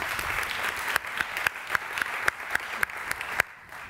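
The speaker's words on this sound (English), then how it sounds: "And we can give John a little extra applause" Applause for a panelist from a conference audience, fairly quiet and distant, with several sharper individual claps standing out at a loose, regular rhythm over a soft background wash.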